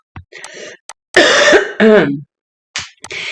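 A person clears their throat and coughs a few times in short, close bursts separated by brief pauses.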